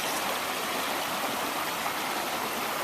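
Water in a stream at a rugged trail crossing near Grass Valley, California rushes in a steady, loud, continuous wash, close by with no voices.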